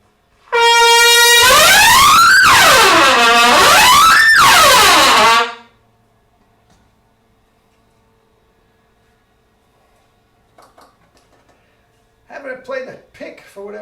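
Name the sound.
truck air horn honking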